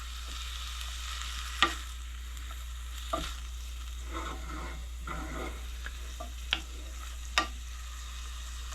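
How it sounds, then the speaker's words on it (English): Green onions frying in a pan with a soft, steady sizzle under a low hum, broken by a few light, distinct taps and scrapes of a stirring utensil. "Give it a light stir."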